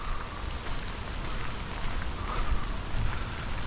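Rain falls outdoors near a light-rail station, making a steady, fairly loud patter and hiss that continues throughout with no talking.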